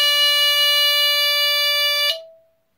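An Entronic Vigilante II ES-7 smoke detector sounding its alarm during a test: one loud, harsh continuous electronic tone for about two seconds, then abruptly stopping with a brief fading ring.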